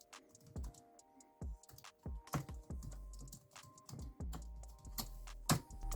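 Typing on a SEENDA SK64-B3 full-size Bluetooth keyboard with scissor-switch keys and a matte grey metal panel, close-up: irregular bursts of soft, muted clicks that pause and resume, with no talking.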